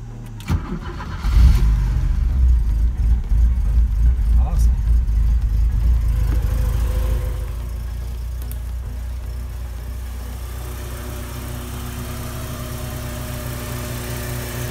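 An 1985 Porsche 944 engine cranks and fires up, then settles into a loud, steady idle with a deep rumble, running in a garage while its belts and vacuum lines are being serviced.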